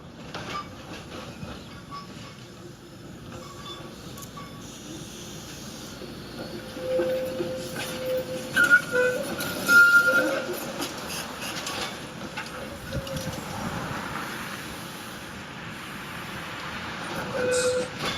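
A Valentine's trolley streetcar runs along street rails outside, a steady rolling rumble with hiss and faint clicking that swells mid-way as it passes near a track switch, with no voices.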